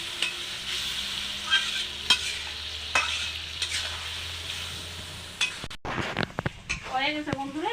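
Pieces of meat go into hot oil in a Bengali home kitchen pan. A utensil stirs and clinks against the pan, then a sudden loud sizzle bursts up near the end, with a voice briefly heard.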